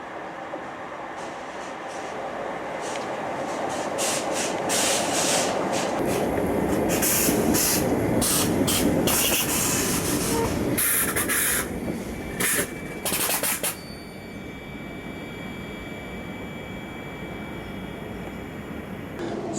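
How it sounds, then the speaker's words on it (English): A train pulls into Rugeley Town railway station, its rumble building with a loud rush of wheels and hissing brakes, then settling into a steady idle hum and tonal whine as it stands at the platform. "So they're just calling for my train now, so let's see this arriving into the station."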